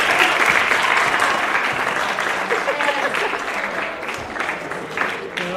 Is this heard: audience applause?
yes